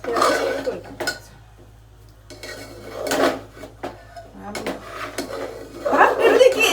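A spoon turns and scrapes cooked rice in a metal pot, giving a few clinks and scraping bursts spaced a couple of seconds apart, close by, with people talking over the stirring.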